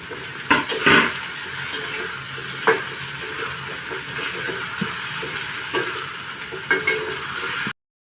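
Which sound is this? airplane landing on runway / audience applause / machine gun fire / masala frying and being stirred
masala frying and being stirred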